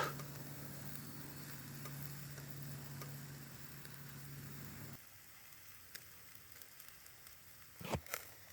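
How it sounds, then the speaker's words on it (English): Faint, steady sizzling crackle of lamb chops cooking over a home-made portable wood grill, with a low hum that drops away midway and a few soft clicks near the end. "Can you hear it sizzling?"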